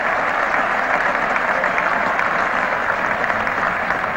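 A cricket crowd at the 1975 England vs Australia second Test applauds a hooked boundary four, with a loud, steady wash of clapping all the way through and no voices standing out.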